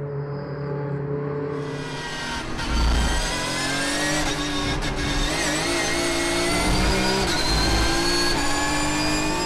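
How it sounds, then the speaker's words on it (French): Several Porsche race cars battle closely on a circuit during an endurance race, engines roaring loudly and continuously with rising and falling revs as the pack passes, no talk. "En tête, un groupe de 4 voitures se bat pour la victoire."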